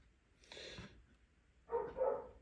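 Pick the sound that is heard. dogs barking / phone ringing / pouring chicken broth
dogs barking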